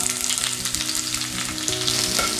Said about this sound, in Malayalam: ചെറിയ ഉള്ളി നല്ലൊരു ഗോൾഡൻ ബ്രൗൺ കളർ ആകുന്നത് വരെ നമുക്ക് മൂപ്പിച്ചെടുക്കണം